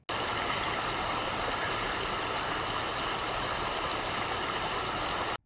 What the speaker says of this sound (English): the ambient noise of the waterfall is louder than they are